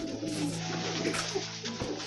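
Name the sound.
Sirazi pigeon cooing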